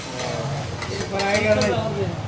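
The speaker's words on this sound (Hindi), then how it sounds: "एक तड़का लगा के बनाओ" Tadka sizzling in hot oil at a Sukkur street food stall, a steady crackling fry with scraping and stirring of a pan, close and fairly loud throughout.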